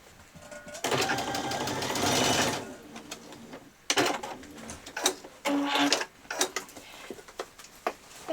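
A sewing machine stitches the straps of a child's dress in several short bursts of close, rattling mechanical whirring, with pauses and small clicks and handling noises between runs.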